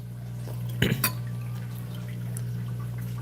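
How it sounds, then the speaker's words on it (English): A hydroponic garden's water pump gives off a steady low electric hum throughout, with a couple of brief glassy clinks and watery splashes near the start. "The humming, that is my water pump. That's my hydroponic garden behind me."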